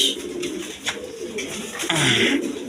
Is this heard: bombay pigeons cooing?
yes